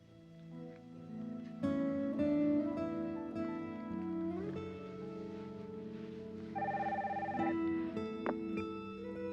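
A telephone ringing in repeated electronic tones, layered with melodic beeps that shift in pitch, steady and fairly loud with no voices.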